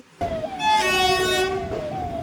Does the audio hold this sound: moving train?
yes